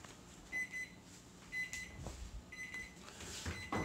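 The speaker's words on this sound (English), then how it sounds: "And that's my timer." A kitchen oven timer beeps while sourdough country bread bakes, four short high beeps spaced about a second apart, quiet and alone amid soft kitchen clatter.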